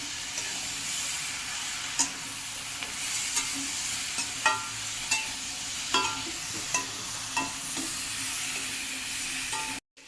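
Dried shrimp fry in a hot pan with a constant sizzle, while a utensil stirs and scrapes them in short strokes about every second. The frying is close and steady, with no talk.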